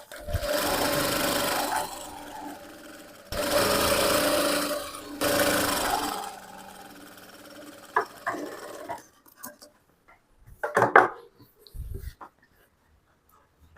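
Sewing machine stitching folded-in fabric for a frock, running in several loud bursts of rapid needle clatter separated by pauses, then quieter handling and rustling toward the end.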